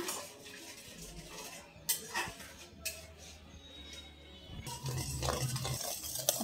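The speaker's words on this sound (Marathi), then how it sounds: "विरघळेपर्यंत आपल्याला मिक्स करून घ्यायचं। इकडे साखर छानपैकी विरघळत आहे" Sugar is stirred in a pan until it dissolves while making Mysore pak, with a spoon scraping and clinking against the metal in uneven bursts. A louder, busier stretch of stirring comes near the end.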